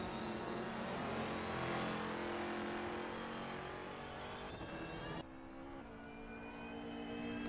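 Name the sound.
race car engine in a racing video game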